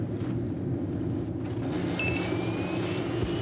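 A helicopter in the video game Battlefield: Bad Company gives off a loud, steady engine and rotor drone that fills the whole stretch, with a couple of brief electronic beeps rising over it partway through.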